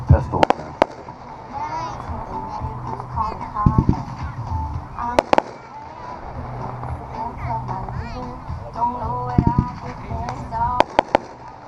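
A consumer firework, a brocade with strobe pistol cake, crackling and popping in scattered bursts with sharp reports, while people talk throughout and a goose-like honking sounds among the noise.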